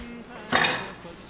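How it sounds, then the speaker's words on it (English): A piece of butter, 80 grams, goes into a cooking pot for Roman-style meatballs, giving one short, fairly loud metallic clank against the pot that fades quickly. "In the pot we put a piece of butter, 80 grams of butter."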